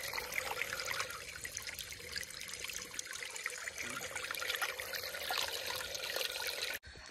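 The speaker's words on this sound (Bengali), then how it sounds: "কত সুন্দর ঝর্ণা।" A waterfall at a scenic viewpoint in Assam pours as a steady, broadband rush of water, continuous and fairly loud, with no talk over it, cutting off abruptly near the end.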